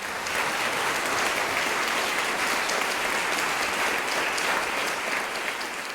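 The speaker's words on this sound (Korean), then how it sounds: "이 대목에서 우리 조계사한테 큰 박수 한번 보내주시기 바랍니다" A crowd at an academic conference claps steadily and densely throughout, a sustained round of applause with no pauses.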